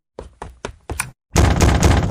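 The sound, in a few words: knocking on a door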